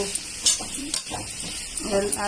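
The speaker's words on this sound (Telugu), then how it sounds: "ఇందులో వేసుకొని బాగా కలుపుకొని మనం వేసిన కారము, మసాలా, ఉప్పు" Boiled cabbage gets mixed with chili powder, masala and salt in a pan, with soft stirring scrapes, occasional utensil knocks and a light sizzle, close by.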